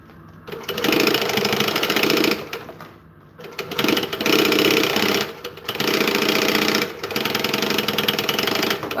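A sewing machine stitches fabric in loud, steady mechanical runs, stopping briefly between three or four bursts, with no talking.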